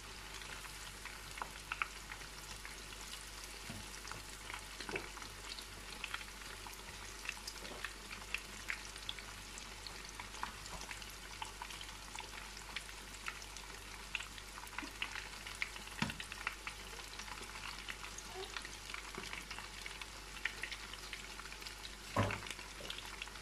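Shrimp marinated in gin sizzling and frying in a home kitchen pan, a steady close crackle with occasional louder pops and stirring clinks throughout, no talking.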